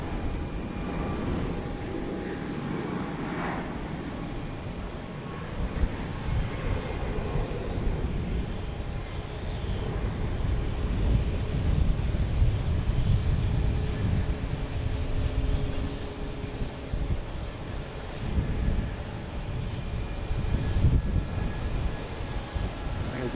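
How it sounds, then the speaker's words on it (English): A Delta airliner takes off from runway 9 at Boston Logan, its engine roar swelling into a steady, loud rumble that holds through most of the stretch, with faint voices underneath. "Delta taking off to Raleigh-Durham on runway 9"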